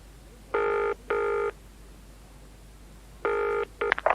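A telephone rings in two short double bursts of electronic trilling, clear and close against a quiet background, then begins a third ring as it is cut off.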